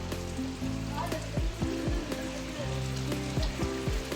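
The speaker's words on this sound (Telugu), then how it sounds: "ఇక్కడ యాత్రకు వచ్చినప్పుడంటే ఒకటే వర్షం పడతానే ఉంది" Heavy rain pours steadily over Gokarna in Karnataka, near a temple tank lined with tin-sheet roofs, a dense hiss with patters and drips, while low tonal hums run underneath throughout.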